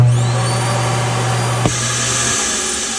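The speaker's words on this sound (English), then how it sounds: "Then down below here's where our basically our vacuum cleaner is located." A built-in vacuum cleaner in a 2022 Forest River No Boundaries 19.8 Bunkhouse camper runs with a loud, steady motor hum and hiss, a brief clunk midway, then continues as the hum drops off.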